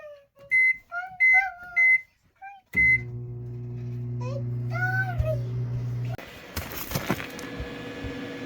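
Brief high-pitched voices and beeps, then a steady low electrical hum of a microwave oven drawing 1850 watts on an off-grid solar power system, running for a few seconds before clattering noise.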